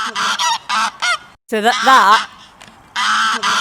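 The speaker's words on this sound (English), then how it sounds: "that's the goose honk" Loud, close goose honks in quick repeated bursts, separated by short pauses, with a longer wavering honk in the middle.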